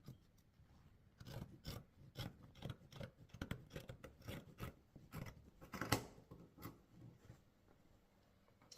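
Scissors snip through Asoke fabric while a bubu kaftan is cut out from the back neckline, making a steady run of close, crisp cuts and rasping blade strokes with no talk.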